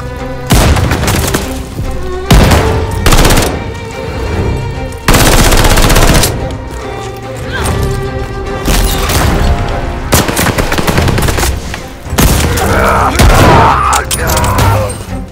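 Rapid automatic gunfire in Call of Duty Vanguard at Stalingrad, loud bursts of several seconds each, repeated with short gaps between, mixed with booming explosions.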